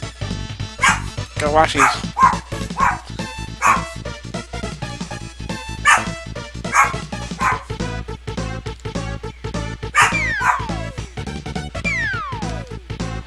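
Small cartoon dogs in the Goof Troop video game yip and bark repeatedly in quick bursts over chiptune-style game music, with someone talking throughout.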